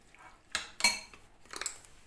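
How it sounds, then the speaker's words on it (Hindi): Spoon clinking against a bowl while mixing shawarma sauce ingredients, including soy sauce, chili sauce and ginger-garlic paste, with three distinct scraping clatters close by in a quiet kitchen. "और मैं सबको करूँगी मिक्स"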